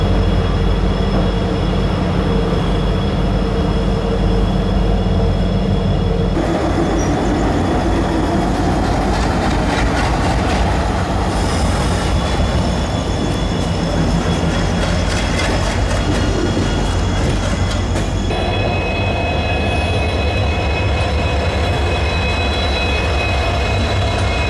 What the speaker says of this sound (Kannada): ಟ್ರೈನ್ ನಂಬರ್ 16516 ಅಂದ್ರೆ ಕಾರವಾರದಿಂದ ಯಶವಂತಪುರಕ್ಕೆ ಬರುವಂಥ ಕಾರವಾರ ಯಶವಂತಪುರ ಎಕ್ಸ್ಪ್ರೆಸ್